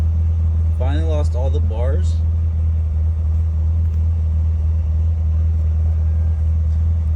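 A Chevrolet Corvette C7 Z06 with a dry-sump engine idles steadily while warming up, a constant low rumble throughout, with someone speaking briefly over it near the start.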